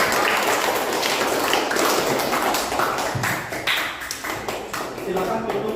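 Classroom applause from students breaks out, a dense patter of clapping that carries on for several seconds and gradually thins out.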